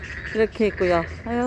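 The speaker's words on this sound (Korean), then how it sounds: "개구리 울음소리가 너무 많이 나네요" Frogs croak repeatedly in an urban wetland beside an eight-lane road, the calls close and rhythmic, with a bullfrog also among them, while a person speaks over them.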